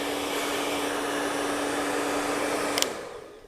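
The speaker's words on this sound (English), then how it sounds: "this is the State Board blow dry procedure for your New York State cosmetology practical exam" A hair dryer blows a mannequin's hair during a New York State cosmetology practical exam, a loud, steady close whoosh with a constant hum that cuts off near the end, with no talk.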